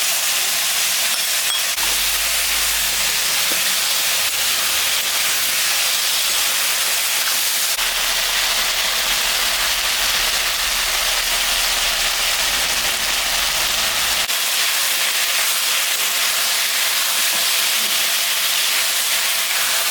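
Bottle gourd sautés in a pan with green chilli, salt and turmeric. A loud, unbroken hiss runs throughout with no voices.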